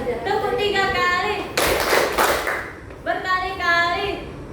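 In a classroom clapping game, a group chants together, then breaks into a loud burst of rhythmic hand claps lasting over a second before the chanting voices resume.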